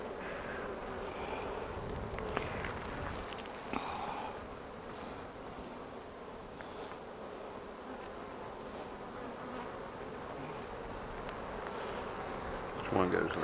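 Honey bees swarm and buzz around an open hive during a first-day-of-spring inspection, a continuous close droning hum with faint handling rustles and brief quiet voices in the background.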